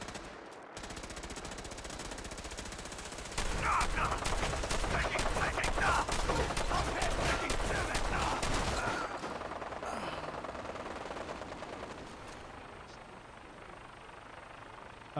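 A Gatling laser firing in Fallout 4, a long rapid whirring stream of buzzing shots lasting several seconds amid background combat noise, then winding down, loud and fairly close.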